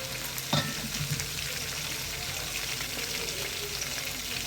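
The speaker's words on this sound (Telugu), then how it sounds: "అది కొంచెం వేగినాక ఉల్లిపాయలు వేసుకోవాలి." Onions sizzle in a pan of oil for chicken curry, a steady crackling hiss that opens with a sharp clatter and continues evenly, close up with no talking.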